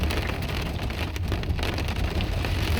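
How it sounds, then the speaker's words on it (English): Steady rain drums on a car's metal roof, a dense, close hiss of drops with a low rumble underneath, continuous and loud throughout. "I love being in the car when it's raining. It just sounds so nice on the metal roof."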